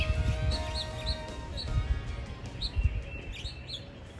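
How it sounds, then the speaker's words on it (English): Bluebirds chirping near their nest under a house's eaves, a series of bright, short tweets repeating at close range over low outdoor background noise. "They're bluebirds."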